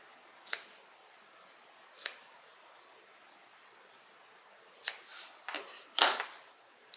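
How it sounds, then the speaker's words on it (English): Scissors snip fabric at the gusset of a quilted tote bag: a few sharp, quiet, isolated cuts spaced apart, then a quicker cluster of louder snips near the end, close by in a quiet room. "I am going to put a couple of snips in the gusset."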